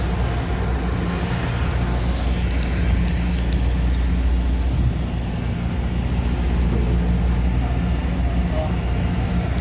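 Steady, loud engine rumble and broadband roar from a Supercat fast ferry travelling from Cebu to Ormoc, continuous for the whole stretch with no pauses.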